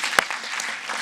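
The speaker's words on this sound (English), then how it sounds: "so I think also we can applaud ourselves for being diverse" Conference audience clapping together, a brief, dense burst of applause from a crowd in a hall.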